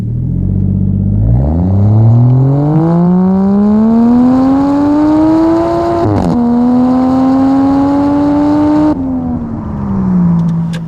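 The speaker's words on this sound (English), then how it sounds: "Driving the Toyota Chaser." A Toyota Chaser's engine revs up hard, pitch climbing smoothly through a long pull before a quick shift and a second sustained rise, then easing off; loud, close and continuous with no talk.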